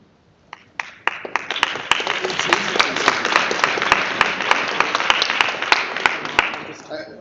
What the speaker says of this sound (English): all the real compliments and clapping should go to Tara.